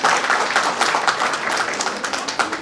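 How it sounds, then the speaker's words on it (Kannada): An audience applauds at a public speech, a burst of many hands clapping fairly close with uneven, rippling rhythm that holds steady for a few seconds. "ಚಪ್ಪಾಳೆ ಹೊಡಿಬೇಕಲ್ಲ"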